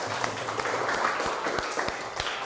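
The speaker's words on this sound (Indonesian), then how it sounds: "Kalau senang beri tepuk tangan yang pelan." Soft, scattered clapping from a class of students, a few light claps spread across the moment with steady room noise beneath.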